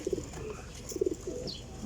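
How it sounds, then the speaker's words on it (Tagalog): Pigeons coo in two short bursts of soft, throaty notes, close by and fairly quiet, with a pause between them and faint background noise. "Dami kalapatids oh."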